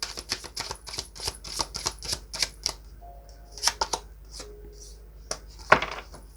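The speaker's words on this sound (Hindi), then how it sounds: "पहले कार्ड्स निकाल लेते हैं, फिर कार्ड्स रीड करेंगे।" Tarot cards shuffled and drawn by hand at close range, a run of quick crisp flicks and snaps with softer rustling between, interrupted by brief bursts of speech.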